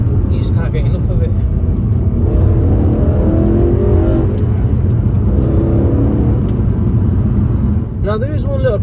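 A BMW M3 (E90/E92) V8 engine revs hard and loud, its pitch climbing and falling in throaty sweeps, then easing off briefly before revving up again at the end.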